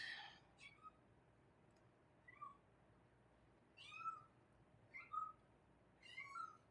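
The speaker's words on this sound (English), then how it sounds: "Who's meowing?" A house cat meows about five times in short, separate calls, fairly faint, in the background of a home crafting session where someone is making a scrapbook layout.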